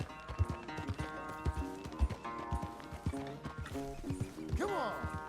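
A horse in the video game Red Dead Redemption 2 clip-clops in a steady hoof rhythm and gives a short whinny near the end, set against game music and someone talking.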